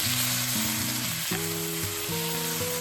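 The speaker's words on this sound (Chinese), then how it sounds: "然后倒入沥干水分的土豆，翻炒一下" Drained potatoes stir-fry with sliced garlic in hot oil in a wok, a bright continuous sizzle heard close up beneath a melodic tune playing throughout.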